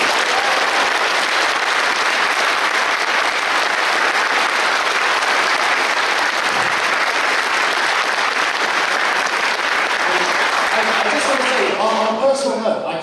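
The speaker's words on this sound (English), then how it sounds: "can we get a round of applause for Lindsay Shepherd?" An audience gives a loud, sustained round of applause for Lindsay Shepherd at a live Q&A event, dense clapping filling the room nearly the whole time before thinning out at the very end with a few scattered claps.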